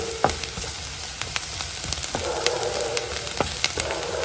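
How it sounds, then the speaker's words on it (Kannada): Onion fries in a pan until brown, giving a steady close sizzle broken by repeated sharp scrapes and taps of a spatula against the pan; no voices. "ಇದನ್ನು ಚೆನ್ನಾಗಿ ಹುರ್ಕೊಳ್ತೀನಿ ಈರುಳ್ಳಿ ಕಲರ್ ಚೇಂಜ್ ಆಗುವವರೆಗೆ"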